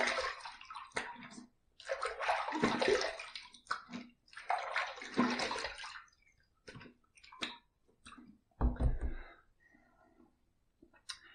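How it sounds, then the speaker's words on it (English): Water runs and splashes in bursts as a face is rinsed after a wet shave, with several separate pulses of flow and short quiet gaps between them, close and fairly loud. "Second pass done, let's rinse."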